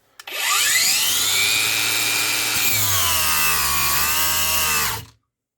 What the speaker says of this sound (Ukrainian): попробуємо шліфувати стіл